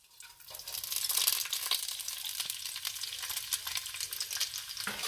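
Chopped onions sautéing in about five tablespoons of hot vegetable oil for chicken tinga, a soft, continuous crackling sizzle with faint stirring and no voices.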